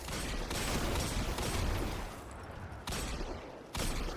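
Dense, continuous gunfire from shooting in a video game played via GeForce Now on Xbox, loud rattling bursts with two brief pauses, no talking.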